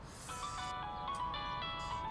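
A phone ringtone in a TV drama scene plays a short repeating electronic melody of bright tones, fairly quiet over a soft background hum.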